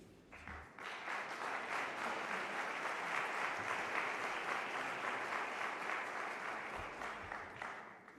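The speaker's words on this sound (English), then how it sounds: "Please join me in giving a warm round of applause to Laura Newman, civil society member of the OGP Steering Committee." Warm audience applause for Laura Newman at the Open Government Partnership Global Summit, a steady wash of clapping that swells quickly, holds evenly, and tapers off at the end.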